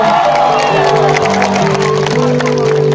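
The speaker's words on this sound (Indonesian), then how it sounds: "Tepuk tangan yang paling meriah buat kalian semua malam ini" At an outdoor concert on Lapangan Ombilin, Sawahlunto, a big crowd keeps up loud cheering and clapping, a dense, steady roar with held musical tones humming beneath it.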